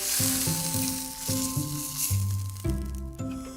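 Lamb shanks brown in a hot pan with a dense, steady sizzle. Several tonal clunks and thuds from the pan or meat being moved sound up close, in an irregular rhythm.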